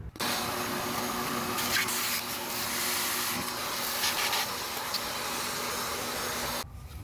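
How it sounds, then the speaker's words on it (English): A shop vacuum roars steadily as it sucks sand and debris out of the frame rails of a 1967 Mustang, close and loud, switching on near the start and cutting off just before the end. "So I'm gonna set up the camera and do a little vacuuming."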